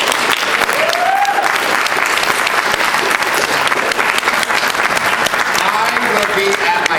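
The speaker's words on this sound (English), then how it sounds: "Give yourselves a round of applause." A convention crowd at Youmacon 2015 applauds loudly and steadily, dense clapping that holds for several seconds with a few voices mixed in.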